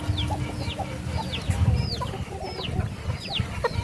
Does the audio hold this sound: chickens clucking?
yes